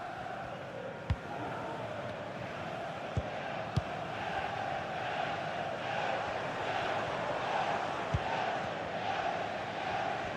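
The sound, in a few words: stadium crowd in a football video game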